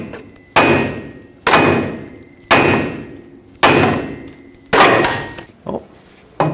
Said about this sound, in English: hammer right on the end of the pitman arm and the vibrations should break this free